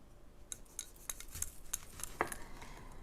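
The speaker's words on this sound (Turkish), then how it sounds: "Domateslerimi doğrayacağım." Quiet, close knife strokes slicing tomatoes on a board, a series of short crisp cuts with an uneven rhythm and a slightly wet edge, no talking.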